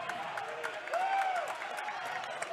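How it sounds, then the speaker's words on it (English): A high school basketball crowd at Millard South cheers and claps in a gym, a steady roar of distant applause and shouting with a whistle-like tone rising briefly through it. "Crowd getting into it here at Millard South."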